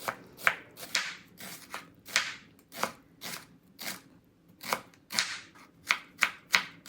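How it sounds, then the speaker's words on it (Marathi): A knife slices medium-sized onions lengthwise on a board, about a dozen crisp, evenly spaced cuts in a steady rhythm, close and fairly quiet with no talk. "त्याला आपण स्लाईसमध्ये कट करून घेऊया आपल्याला उभा कट करून घ्यायचा आहे कांदा"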